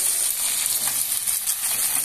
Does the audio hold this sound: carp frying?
yes